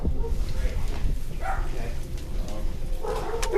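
Dogs barking and yipping near a house during a SWAT operation, several sharp barks and whimpers scattered through the clip with people talking over them.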